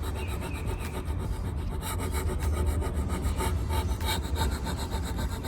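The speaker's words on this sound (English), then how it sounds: "I won't bore you guys with all of this scrubbing and scraping" Rough scrubbing and scraping of old finish off a wooden tea cart, a continuous dense rasping with quick repeated strokes, close and loud with no talk.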